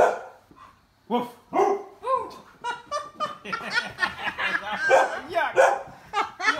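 A wet dog barks indoors in quick bursts, close and fairly loud, mixed with people's laughter and chatter throughout.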